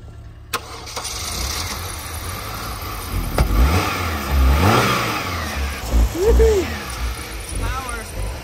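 A Subaru Outback twin cam engine that had sat unused cranks and catches, then revs up and down in several rising surges near the microphone, with people talking over it outdoors.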